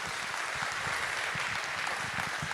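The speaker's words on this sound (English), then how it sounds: "Can we give a round of applause to our director?" A short burst of steady applause from a crowd, dense clapping at even loudness with no voices standing out.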